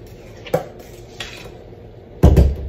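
Pineapple pound cake batter being mixed in a bowl, a few sharp clinks and scrapes of utensil against the bowl, ending in a louder rattling clatter, close and without talk.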